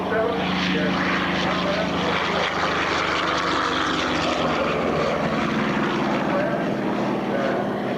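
B-29 bomber piston engines and propellers drone loudly and continuously for eight seconds, forming a dense, steady roar that stays close and unchanging throughout.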